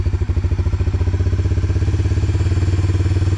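A Honda Fourtrax 300 4x4 ATV engine running with the choke on after sitting unused, idling in a fast, regular thumping rhythm, close and loud.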